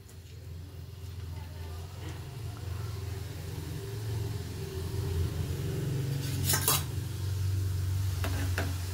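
Nimki dough pieces frying in hot oil, a continuous low bubbling sizzle with a rumbling undertone and a couple of sharp utensil clinks near the end.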